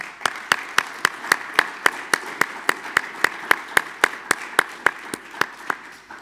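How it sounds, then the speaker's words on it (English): A single person claps slowly and steadily at an event honouring a film's producer and editor, about twenty sharp, evenly spaced claps over a quiet room with no voices. "Let's give another huge round of applause to producer and editor Tom Gallagher"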